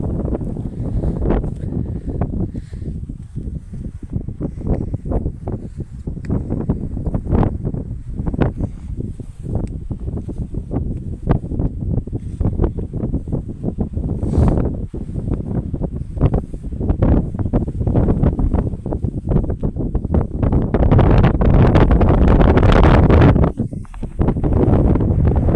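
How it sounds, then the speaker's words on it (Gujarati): Strong wind blowing across an outdoor microphone near a temple in rural Gujarat, loud continuous buffeting and rumbling gusts that swell louder toward the end, with no talk. "પવન"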